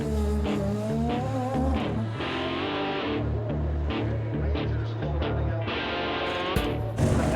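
A race car in Forsythe Racing's Champ Car World Series team heads back out onto the track. Its engine screams loud and close through rapid rising and falling gear changes, with tire squeal as it powers away.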